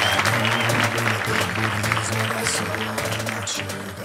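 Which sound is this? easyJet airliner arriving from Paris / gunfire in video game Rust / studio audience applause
studio audience applause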